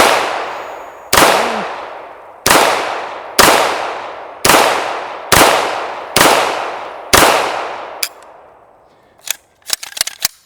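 Seven loud, evenly spaced rifle shots from a Fouzi rifle crack one after another, each leaving a decaying echo, followed by a few quick sharp clicks and knocks.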